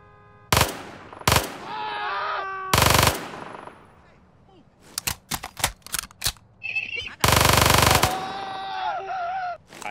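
Machine pistol fire in RimWorld comes in several loud, close bursts of rapid shots separated by short pauses, with scattered single pops and game effects between them.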